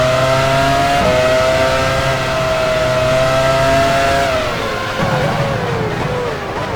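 A Formula One race car engine in F1 Challenge 99-02, at the 2001 Canadian Grand Prix at Circuit Gilles Villeneuve, holds a loud steady high-pitched whine, then drops in pitch and roughens near the end, with no talk.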